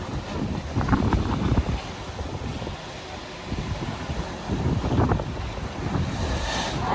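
Sea waves wash and roll in steady surges on the coast at Malvan, India, under heavy wind buffeting the microphone, loud and continuous, with no voices.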